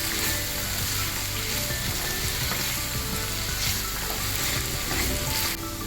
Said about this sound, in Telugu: ఇప్పుడు ఈ మసాలా అంతా కూడా కలిసే వరకు ఇలా కలిపేసుకుంటాం